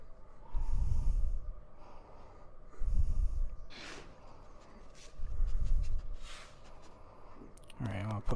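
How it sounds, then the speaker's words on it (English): An American bison in theHunter breathing as slow, deep rhythmic snorts, with three heavy exhales spaced about two seconds apart, and brief voice sounds in between. "It's like it's still the bison's breathing."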